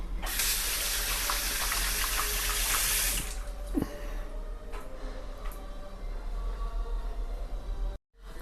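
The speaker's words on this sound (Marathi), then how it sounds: "तोपर्यंत हात धुवून घेते" Water runs steadily from a kitchen tap for about three seconds as hands are washed, then softer splashes and trickles follow, with a faint knock partway through and a brief silence near the end.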